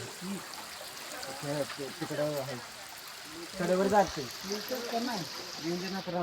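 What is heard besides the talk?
waterfall and flowing water at Marleshwar, Konkan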